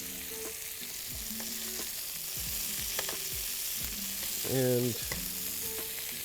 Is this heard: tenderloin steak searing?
yes